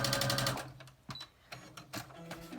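A sewing machine stitches a quilt block for a cross weave pattern, a fast dense whir at the start that cuts off after about half a second, followed by faint, scattered handling clicks and taps.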